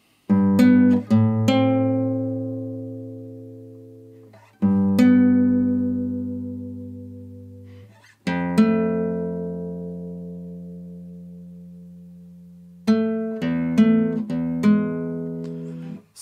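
Solo guitar works through the next phrase of a piece from The Last of Us Part II: a few widely spaced chords, each left to ring and fade, then a quicker cluster of notes at the end, close and unaccompanied.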